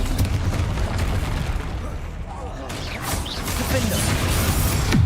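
A Confringo fire spell goes off in Hogwarts Legacy as a heavy rumbling blast with crackling debris, loud and sustained, then a second burst swells near the end, with a voice speaking over it.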